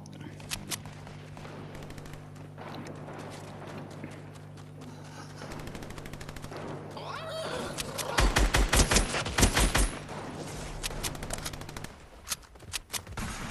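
Rapid automatic gunfire in Fortnite rattles out in bursts, loudest in a dense volley around the middle, alongside players talking over the game audio.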